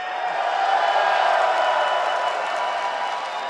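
Large esports arena crowd at an LCS Finals qualifier match cheering and applauding in a steady, dense roar that fills the space throughout, with no distinct talk on top.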